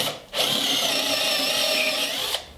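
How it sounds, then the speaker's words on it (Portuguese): A loud, close power drill whirs up, runs steadily for about two seconds, then stops, drilling a hole in a corn cob. "faz um furo, outro furo"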